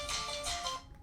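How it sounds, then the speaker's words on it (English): A brief burst of a mobile phone ringtone, a bright tonal melody lasting under a second before cutting off. "Sorry, that was my phone."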